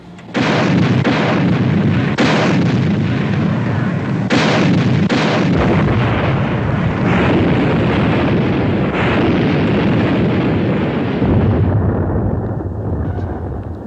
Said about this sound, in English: set depth charges to 100